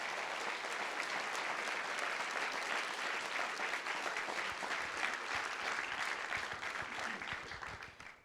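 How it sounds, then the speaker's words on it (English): A law school audience at a moot court championship gives a long, loud round of applause for the host and sponsor, dense and sustained before tapering off at the end. "One more round of applause for our host and sponsor."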